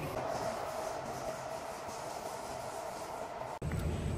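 Inside a moving Singapore MRT train carriage, a steady rumble and rolling hum continues throughout, then cuts sharply near the end as the sound shifts to a different, quieter interior tone.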